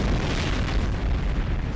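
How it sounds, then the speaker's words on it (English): Fireworks exploding in Fallout 3, a dense continuous rumble of booms and bursts, loud and close, with no distinct gaps between blasts. "let's just watch the fireworks for a minute"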